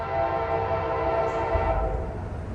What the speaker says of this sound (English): We got a southbound train getting ready to go over the bridge right now.